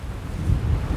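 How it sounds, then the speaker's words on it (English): Strong wind on Mount Mimuro near Ome, Japan, buffets the microphone with a continuous low roar that swells slightly and holds throughout. "it's getting real windy up here."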